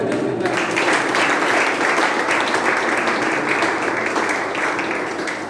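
Sustained audience applause from a group at a missiology class, dense and steady for several seconds, loud and close, with no talking over it.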